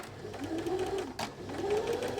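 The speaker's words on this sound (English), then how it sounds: "Now I am just using a domestic sewing machine, 5mm seam allowance." A domestic Janome sewing machine stitching soft jersey fabric, its motor whirring steadily with a rising and falling hum and a brief click midway, close and clear.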